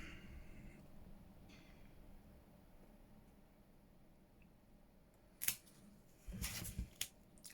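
Scissors snip through washi tape in a few quick, close crisp cuts near the end, after a quiet stretch with faint handling sounds.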